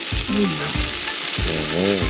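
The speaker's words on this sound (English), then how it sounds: "Frying that up. I'm going to fry that egg." A steady crackling sizzle of an egg frying in a pan fills the clip, with a few clattering utensil knocks and brief voice-like tones over it.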